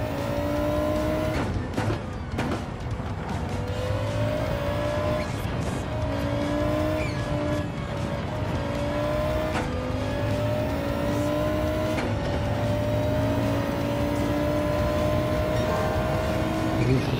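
A Group B rally car in Gran Turismo 7 accelerates hard, its engine droning loud and constant through rising gears with brief shift dips and occasional tire squeal.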